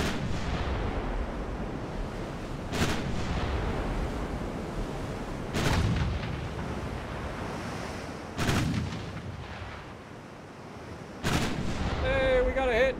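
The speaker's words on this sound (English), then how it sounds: "we're able to reload fast enough to fire our guns before they land" Heavy cruiser 9-inch naval guns firing in the naval warfare game Ultimate Admiral Dreadnoughts: four booming salvos spaced a few seconds apart over a constant roar of sea and battle ambience, each shot loud and rumbling.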